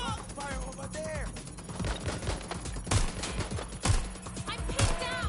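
Rapid video game gunfire rattles in repeated bursts, with several heavier impacts landing at intervals. Voices call out over the shooting.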